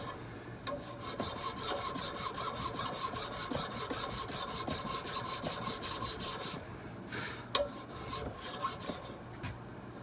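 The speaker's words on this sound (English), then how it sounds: "I'm just angling my file, trying to get the angle of the flat to match" A hand file rasps across a flat on a round smoothbore barrel, a quick, steady run of close scraping strokes with a brief pause and a knock partway through.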